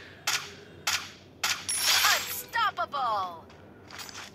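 Gunfire from an AC-80 rifle in a ranked video game match, several sharp shots in quick succession followed by brief ringing, pinging tones, fairly close and loud.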